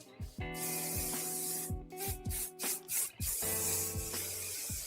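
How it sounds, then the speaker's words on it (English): Hairspray from an aerosol can, misted onto hair in several bursts, with long hisses broken by short pauses amid steady blow-dryer hum in a salon. "Okay, so I'll hit it with hairspray."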